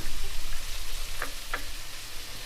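Chopped onions going into hot oil for Tamil paruppu urandai kulambu, giving a steady close frying sizzle with a couple of brief sharp crackles partway through.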